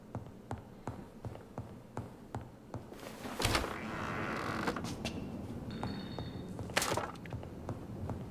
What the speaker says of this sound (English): Unlock the door from down here.